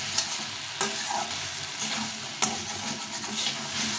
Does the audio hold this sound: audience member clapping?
no